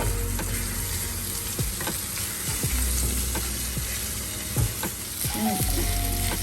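Chicken wings in buffalo sauce sizzle steadily in a pan on the stove, a loud continuous frying hiss with occasional stirring scrapes and no talking.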